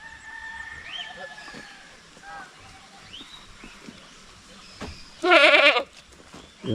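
A goat bleats loudly once, a short wavering cry standing out over a quiet outdoor backdrop with faint bird calls.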